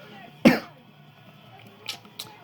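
A single sharp, close cough from a man during a Smash Bros gaming session, followed by a quiet room and a couple of faint breathy sounds.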